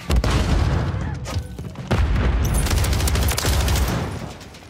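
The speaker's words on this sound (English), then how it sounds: "Stun grenade out!" A stun grenade goes off in a multiplayer shooter match on a drive-thru map, a loud booming burst among rapid gunfire and further blasts that fill the clip without pause.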